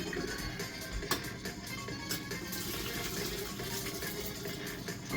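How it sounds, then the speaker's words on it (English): Water runs off cooked Sichuan spicy instant noodles as they drain, making a soft continuous splash and trickle that stays quiet and steady with no talking over it. "Drain our noodle."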